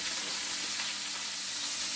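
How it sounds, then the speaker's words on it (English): Steady, loud sizzling and crackling of steak frying in hot fat in a pan, a continuous hiss throughout with no talking. "this is sizzling pretty well"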